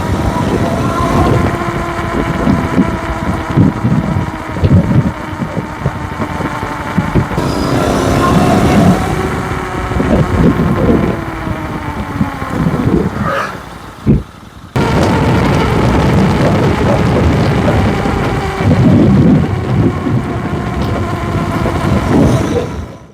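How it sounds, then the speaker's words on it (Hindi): A Royal Enfield Interceptor GT650 on Ralco 100/91R18 front and 130/70R18 rear tyres cruises a highway, giving a loud, steady roar of tyre and engine noise with a droning hum and wind rush throughout. "इसमें टायर नॉइज बहुत ज्यादा है, जैसे लगता है कि ट्रक हाईवे पे चल रही है"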